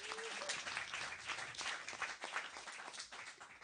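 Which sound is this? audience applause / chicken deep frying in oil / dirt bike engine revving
audience applause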